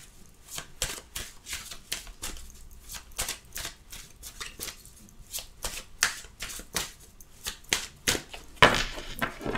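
Small Lenormand fortune-telling cards are shuffled by hand close up, with a long run of crisp, rapid riffling bursts in an uneven rhythm and a louder flurry near the end, with no talk.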